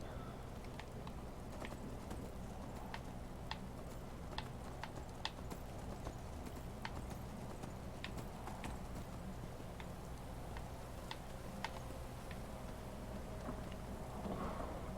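Horse hooves clop at a steady walking pace in Skyrim, faint and evenly spaced, over a low background rumble of rain or storm.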